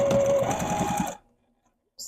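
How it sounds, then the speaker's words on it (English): Sewing machine running steadily across ribbon tags on a handmade stuffed goose, a close, continuous mechanical whir for about a second before it stops and falls silent. "sew across"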